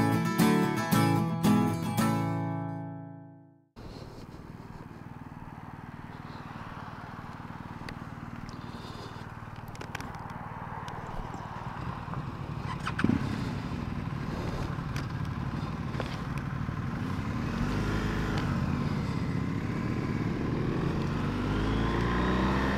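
A BMW R1250GSA motorcycle on a long 300-mile road ride gives a steady, unbroken engine and wind drone that runs at even loudness after a short burst of music at the start.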